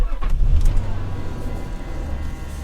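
Engine of a Nissan Elgrand E51 van turning over and catching, then settling into a steady low idle, close and fairly loud.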